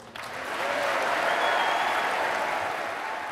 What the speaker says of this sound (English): They were pleased to see him, clapping for two minutes before he even began.